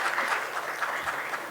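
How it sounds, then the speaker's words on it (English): Audience applause at a conference breakaway session, a dense, steady burst of many hands clapping together, sustained and fairly loud for a short stretch with no talking. "let's put all our energy together and clap for them"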